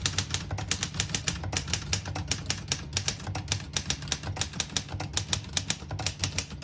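A 1949 Underwood Leader portable typewriter types out a sentence, a steady run of crisp mechanical key strikes clattering at an even rhythm, close and fairly quiet, with no talk.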